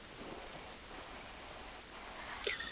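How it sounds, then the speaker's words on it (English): Steady rain falls outdoors in the video game The Last of Us, a continuous soft hiss of drops on surfaces throughout, with a brief brighter sound near the end. "This rain ain't gonna do us any good."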